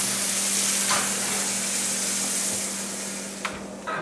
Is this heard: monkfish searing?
yes